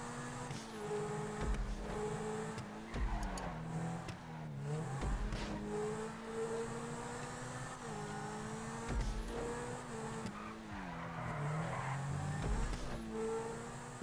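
A Pegassi Zentorno supercar races a lap around a GTA test track, its engine roaring continuously as it revs up and shifts through gears, with brief tire slides and squeals along the way and no talking over it.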